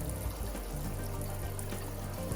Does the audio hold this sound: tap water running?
yes